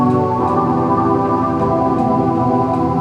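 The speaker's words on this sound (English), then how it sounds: "There's analog chimes. This is more like a pad." An Omnisphere analog chimes patch plays as a soft pad, a sustained, layered synth chord with gentle shimmering overtones, steady and loud with no voices.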